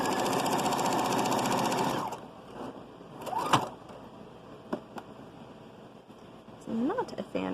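A sewing machine stitches the seam of a child's hat in a loud, steady whir for about two seconds, then stops, leaving quiet handling and rustling noises with brief bits of speech.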